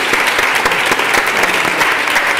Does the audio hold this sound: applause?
yes